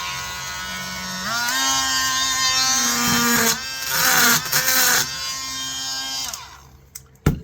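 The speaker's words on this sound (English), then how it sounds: "Going to use my little Dremel." Small Dremel rotary tool running steadily against the pins of an Imperial equal end jack knife, a motor whine that rises and dips in pitch as it bites, with brief pauses, then cuts off near the end.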